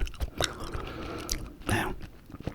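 Close-up gum chewing under whispered ASMR, with wet, sticky chews and small clicks repeating in an uneven rhythm, very near and quiet, with no speech.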